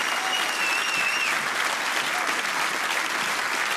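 A studio audience at a German satire show claps in a dense, steady wash of applause that holds at the same level from start to finish, with a voice barely heard underneath.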